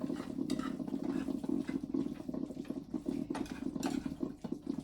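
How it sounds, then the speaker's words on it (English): A spoon stirs sausage into a pan of gravy, with soft scraping and wet swishing against the pot and a low steady background hum, no voice over it. "now I'm going to add my sausage back into the gravy. Mix that in."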